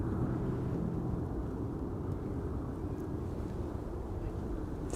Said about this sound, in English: Third appearance of the DC-3 Dakota, 79 years old.